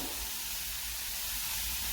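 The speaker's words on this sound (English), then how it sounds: "They are sizzling really nice." A steady, close hiss of onions frying in oil, continuous and even throughout.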